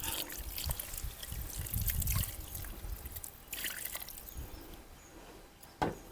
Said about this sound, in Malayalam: ഇനി കുറച്ച് വെള്ളം ഒഴിക്കണം.